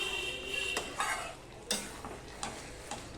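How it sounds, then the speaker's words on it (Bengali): Chicken curry with yogurt being stirred and browned in a pan, with a low sizzle broken by several distinct scrapes and taps of a spoon against the metal. "এবার সমানে এইভাবে নাড়তে নাড়তে আমি ভালো করে কষিয়ে নেব"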